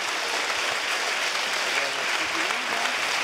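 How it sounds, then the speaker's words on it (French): Steady applause from a crowd at the Arras Film Festival opening, even and continuous clapping, with faint voices murmuring underneath. "Je crois que vous pouvez vraiment les applaudir"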